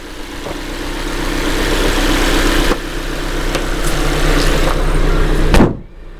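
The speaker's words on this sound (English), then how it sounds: "It seems like the engine is running fine." A 1988 Honda Civic Shuttle EF2 engine runs steadily at idle close by, a smooth constant hum with a couple of faint clicks, ending with a sharp thud as the hood slams shut.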